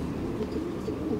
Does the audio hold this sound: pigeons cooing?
yes